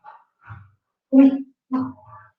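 A dog, a female, gives a few soft whimpers followed by two louder, close barks, each short and separated by brief pauses.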